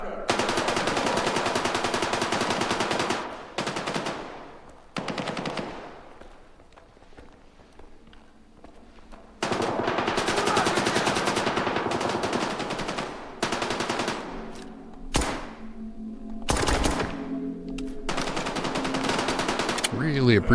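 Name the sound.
suppressed gunfire in the video game STALKER 2: Heart of Chornobyl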